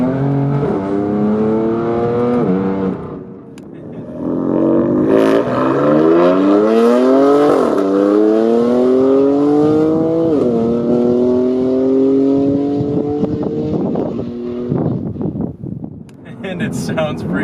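2019 BMW F82 M4 CS with M Performance titanium exhaust revving hard, loud repeated climbs in engine pitch with sharp rises and drops, close to the car and with some wind noise.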